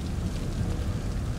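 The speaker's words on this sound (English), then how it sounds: "I'm just looking at the rain, the water on the back of his coat." Rain falls steadily in the horror video game The Evil Within, a dense, even hiss and patter with a low rumbling undertone, constant throughout with no voices.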